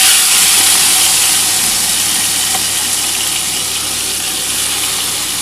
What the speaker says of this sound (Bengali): আমি চিংড়ি মাছগুলো হালকা করে ভেজে তুলে নিচ্ছি।